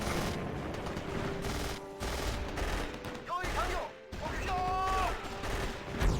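Dense battlefield gunfire from Axis & Allies (2004), with machine guns in bunkers firing steadily amid bursts and crashes, a continuous loud mix of shots and battle noise with faint voices under it.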